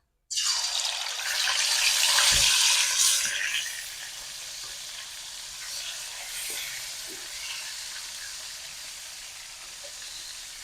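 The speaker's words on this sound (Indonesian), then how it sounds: "Kita lanjut ke sebelahnya, kita goreng ikan teman-teman." Fish dropped into a hot pan of oil erupts in a loud, close sizzle that settles into a steady, quieter frying hiss with occasional pops.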